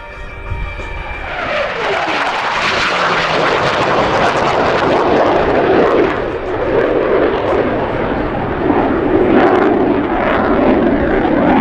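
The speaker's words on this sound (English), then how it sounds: "You will notice that the sound will not reach us until the aircraft reaches Show Center, indicating the highest approach speed." A US Navy F-18 Hornet makes a high-speed pass at an air show, a loud, continuous jet roar that swells and sweeps in pitch as it goes by, holding strong throughout with no talk heard.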